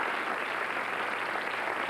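A television talk show studio audience applauds as a dense, steady wash of clapping that carries evenly through the short moment.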